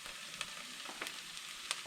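Onions frying in a pan for a cottage pie, a quiet steady sizzle with a few brief crackles and pops, close and faint with no talk.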